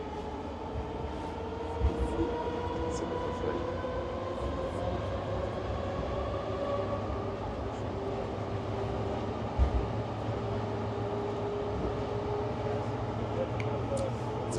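A Moscow metro train runs underground with a steady rumbling roar and a rising and falling electric whine, plus a couple of faint clanks along the track.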